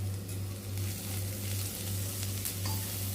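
Onion frying in a small amount of oil in a pan, a steady soft sizzle over a constant low electrical hum, close and quiet with no voices.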